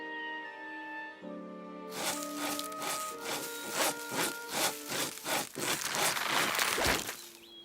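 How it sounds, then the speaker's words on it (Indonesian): Cartoon saw cutting through a strange grass, a steady run of rhythmic back-and-forth rasping strokes over a musical backing, loud and close, with no talking. "Aku ambil gergaji."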